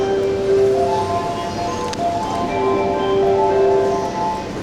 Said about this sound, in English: sounds are off because we're in a train